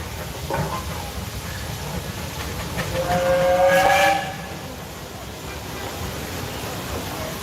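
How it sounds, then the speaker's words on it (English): A steam engine at a threshers reunion steam games event lets out a loud, steady steam whistle blast that swells midway and then fades, with hissing steam and outdoor crowd noise around it. "what you just saw up here was a steam engine hot and bothered"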